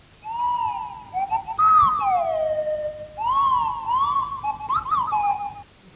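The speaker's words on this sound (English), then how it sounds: "So I got a swanny whistle, this" Swanee whistle played in a series of sliding, swooping whistled phrases that glide up and down in pitch like inflected speech, clear and close, with a soft breathy background.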